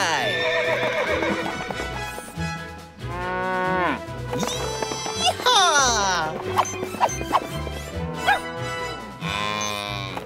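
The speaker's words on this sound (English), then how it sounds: "Riding horses is a big part of the job." A ridden horse on a cattle ranch whinnies loudly several times while hooves clip-clop steadily, cattle lowing mixed in and people talking excitedly over the animals.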